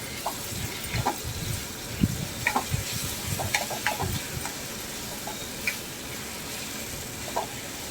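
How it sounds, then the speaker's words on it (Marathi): Crumbled curry leaves dropped into a hot pan for egg bhurji, giving a low, steady sizzle under scattered stirring clatters and small pops, busiest early on and thinning later, with no voices. "कढीपत्ता आहे तो छान चुरबळून टाकते"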